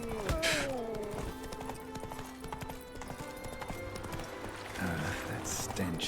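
Roach, the horse in The Witcher 3, trots with a steady clip-clop of hooves under game music and ambience, with a brief whinny-like sound near the start and a faint voice in the mix.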